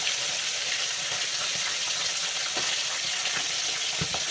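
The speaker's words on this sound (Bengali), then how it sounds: "তো চলো আমি মাছগুলো ভেজে নিই।" Fish frying in hot oil in a wok gives a steady, close, dense sizzle throughout, with a few faint clicks and taps over the crackle and no talking.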